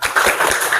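A group doing a rhythmic 'tepuk semangat' clapping ice-breaker in a classroom, a short burst of several quick, loud, patterned claps close by.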